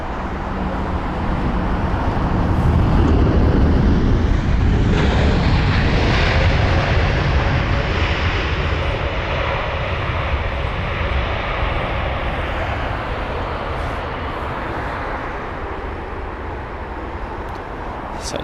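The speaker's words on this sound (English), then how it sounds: "It's going to be a Canada and the 7879 Dreamliner from Toronto." An Air Canada Boeing 787-9 Dreamliner from Toronto at London Heathrow gives off a loud, sustained jet engine roar. The roar builds over the first few seconds and then holds broad and steady, with faint traffic noise underneath.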